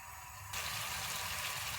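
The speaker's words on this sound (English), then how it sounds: "the sauce has been bubbling away on a really high heat for about 2 minutes" Tomato pizza sauce boils hard in a pan over high heat, a steady close bubbling hiss that swells suddenly after a quieter opening half second and then holds even and continuous.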